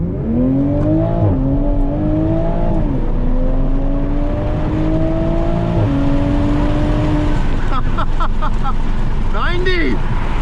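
A 2020 Toyota Supra accelerates hard from a green light, its engine note rising loudly through successive gear pulls with sharp shift breaks, then fluttering and revving near the end, heard from inside the car with a voice over it.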